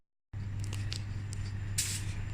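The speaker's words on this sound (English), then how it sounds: "We're going to go ahead and now spray that with polyprop and then heat fuse it." A spray gun sprays polyprop onto glass, giving a steady hissing spray over a low constant hum, with a brief louder burst near the end.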